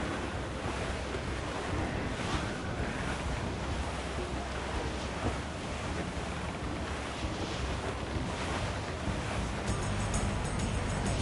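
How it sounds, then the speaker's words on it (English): Wind and rough seas in a video game's sailing scene: a loud, continuous roar of surf and gusting wind that fills the whole stretch without pause, with no talking. "Dark skies and rough seas there! Wind is shaping up for a big blow,"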